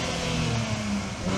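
A Nissan 400Z sports car engine drones steadily at close range, holding a constant low rumble without clear rises in pitch.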